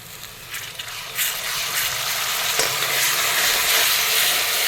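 Ginger-garlic paste frying with browned onions crackles in a dense, close sizzle that swells after the first second and holds steady, with faint stirring scrapes and no talking.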